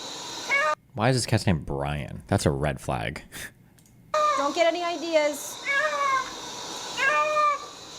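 A house cat meows several times, close and clear, in a series of drawn-out calls after a voice speaks briefly.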